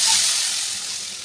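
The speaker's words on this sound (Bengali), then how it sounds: "এবার আমি জল দিয়ে দেব।" Water hits a hot pan of fried long bean and potato curry, setting off a loud, steady sizzling hiss of steam that slowly fades over a second or so.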